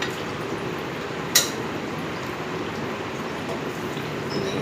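Cooker rinse water poured into a pot of boiling sambar in a home kitchen, a steady rushing liquid wash with one brief sharp clink partway through, no voices.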